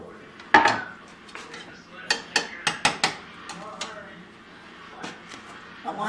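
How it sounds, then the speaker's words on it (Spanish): A small spatula stirring vegetables in a pot makes sharp, irregular clinks and scrapes against the metal, with a loud knock early on and a quick cluster of taps after it, all close by. "aquí esta paletica que nos ayuda a revolver todas las verduras."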